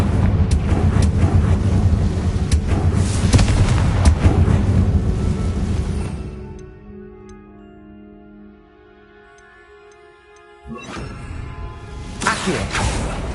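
Confringo fire spell from the Hogwarts Legacy video game: a loud, dense rushing blast and roar lasting several seconds, fading to a quieter tonal hum, then a fresh burst of noise near the end.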